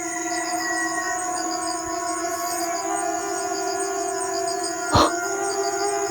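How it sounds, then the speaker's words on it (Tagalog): Wild dogs howl in long sustained tones over steady background hum, with a brief sharp crackle near the end. "Parang mabangis po yung boses ng aso."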